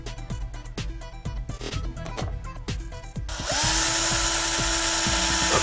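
A power drill bores holes in a wooden beehive frame, starting with short bursts and knocks, then settling into a sustained, close, high whine for the last couple of seconds.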